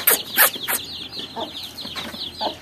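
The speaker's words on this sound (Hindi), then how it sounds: "हमारी मुर्गी के बच्चे जो इधर खेल रहे हैं जी" Young chicks pecking at grass and peelings in a home yard give off a quick series of soft chirping clucks and peeps, close by, in short bursts with brief pauses between.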